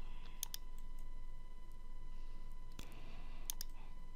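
Crisp mouse clicks in water balance mapping software: a close double click, another single click, then a final double click, alone against a faint steady hum.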